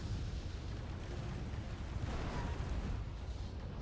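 Rockets detonating in a sci-fi shooter game, a steady roar of overlapping booms and crackling blasts, loud and dense throughout with no clear gaps.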